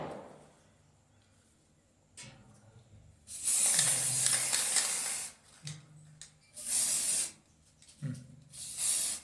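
Spray paint from an aerosol can over a cow-dung wall putty surface, heard as several long hissing bursts of a few seconds each, separated by short pauses, close and fairly loud.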